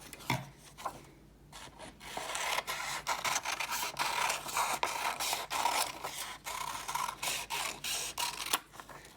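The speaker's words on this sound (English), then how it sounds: "I'm gonna cut out those two shapes." Scissors cutting out paper shapes, giving close, repeated crisp snips and rustling paper scrapes in an irregular rhythm without talk.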